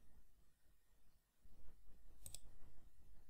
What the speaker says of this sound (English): Now click on the Insert tab at the top panel.